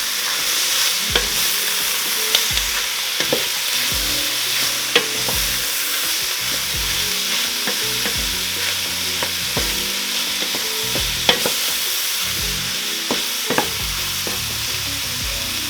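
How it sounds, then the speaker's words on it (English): Peppers sizzle in a pan for a chicken fajita soup, a close, steady frying hiss with scattered scrapes and taps as they are stirred; no one speaks. "we're just going to cook the peppers until it's tender"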